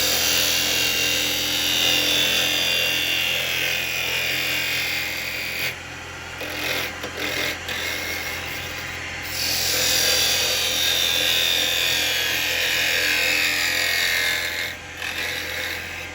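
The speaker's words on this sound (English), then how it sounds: "I'm going to go in and put a tenon on the bottom" A woodturning lathe spins a small bowl made from firewood while carbide chisels cut a tenon on its bottom, making a loud, continuous scraping whir that breaks briefly in the middle before steady cutting resumes.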